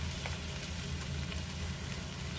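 Spices for a doi fish curry sizzle steadily in hot oil in a pan, a faint continuous fry with light stirring and no voices.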